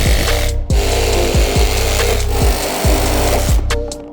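A Sawzall reciprocating saw chatters loudly through car bodywork on a turbo V6 Accord, a rapid buzzing stroke with repeated metallic thumps and brief pauses as the blade shifts.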